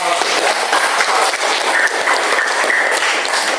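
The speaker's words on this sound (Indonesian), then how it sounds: "Kita beri aplaus kepada kelompok 3." Students in a classroom applaud group 3 with loud, dense clapping that holds steady from start to finish and has no voices over it.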